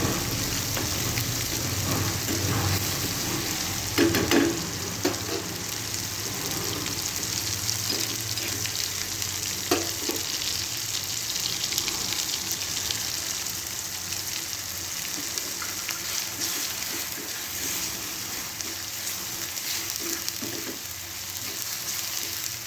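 Spices and tomatoes for a tomato curry fry in a pan, giving a continuous close hiss and sizzle with occasional scraping stirs, steady throughout and without talk.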